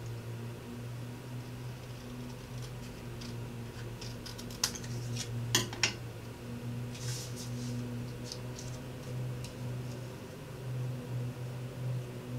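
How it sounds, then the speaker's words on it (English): Scissors snip through paper card during handmade card crafting, giving a few faint, sharp cuts in quick succession over a quiet room hum. "I'm just going to use my scissors and I'm going to cut this off."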